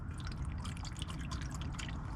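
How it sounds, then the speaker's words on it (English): Very dark used engine oil drains from a Volkswagen VR6 engine after an engine flush treatment, a soft continuous trickle and drip into a pan with faint splashing, steady throughout and no talking. "very, very dark, dark oil coming out."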